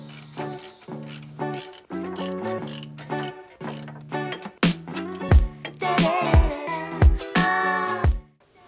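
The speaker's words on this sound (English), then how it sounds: "So let's get the bolts in." Repeated ratchet wrench clicking close up while bolts are tightened on KW Clubsport coilovers on a BMW E36, with rhythmic bursts of clicks and sharp metallic knocks and clanks, and no talk.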